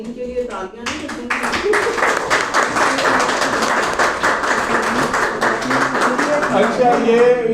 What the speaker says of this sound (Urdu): خواتین کے لیے تالیاں نہیں.